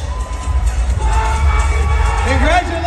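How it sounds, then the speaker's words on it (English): A pageant audience at the Hiyas ng Pilipinas 2023 winners' announcement cheers and applauds loudly. The crowd noise is dense and sustained, with scattered whoops and shouts rising above it. "Let's give them a big round of applause."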